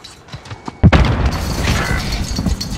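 A grenade detonates in a multiplayer shooter game, a sudden heavy boom followed by a long rumbling, crackling tail that stays loud to the end.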